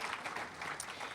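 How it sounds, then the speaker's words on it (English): Brief burst of audience applause for a bookseller at a book event, a dense patter of clapping from a seated crowd lasting about a second. "Let's give them a round of applause."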